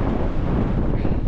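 Wind blowing at a wild camping spot in the Lake District, a loud continuous rumbling buffet against the microphone, close and unbroken, with no talk.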